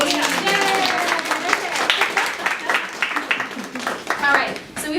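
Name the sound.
audience applause and clapping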